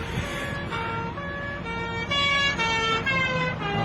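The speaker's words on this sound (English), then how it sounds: "Aye, aye, another police car." Police car siren passing on a rainy night street, a steady wailing tone with a pulsing, rising-and-falling pattern, loud and near throughout, with no talk over it.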